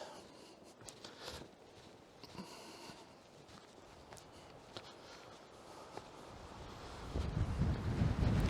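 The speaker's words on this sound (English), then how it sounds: "Oh, it's windy." Wind gusts buffet the microphone on an outdoor trail, with soft rustling and occasional footstep-like thumps, and the rumble grows stronger toward the end.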